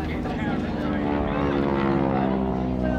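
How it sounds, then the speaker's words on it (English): A stunt plane passes overhead at a Supercars motor race at Symmons Plains, its steady propeller drone sustained and fairly loud throughout, with people talking over it. "The stunt plane went overhead there."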